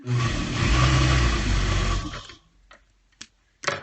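Sewing machine stitching strips of a rag quilt pillow sham together, a steady loud whirring run for about two seconds, then stopping, followed by a few brief handling clicks and knocks.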